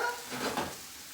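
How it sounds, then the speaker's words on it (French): Mushrooms frying in a pan and stirred with a double-ended spatula, a close, steady sizzle with a soft scraping sweep in the middle. "On n'oublie pas avec sa spatule double embout de remuer nos champignons dans la poêle."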